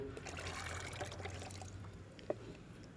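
Diluted jeevamrutham liquid fertilizer poured into a container of water, a steady soft trickle and splash that fades near the end and ends with a small tap, close with no talk.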